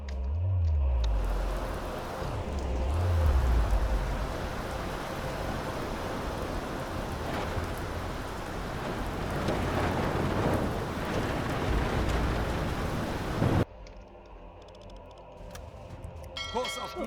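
Heavy rain and a rolling thunderstorm drum steadily around a submarine on the surface in the game UBOAT, with low thunder rumbles early on before the roar abruptly cuts to a quieter interior hum.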